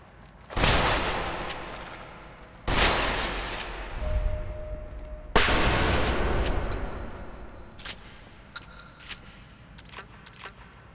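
Fallout 4 gunshots: three heavy, booming shots, each a sudden loud blast with a long echoing tail, spaced about two seconds apart, followed by fainter scattered clicks and distant pops.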